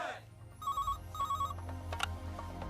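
A telephone rings in a repeated electronic pattern of short bursts over background music and ambience in a Hindi-dubbed action film scene.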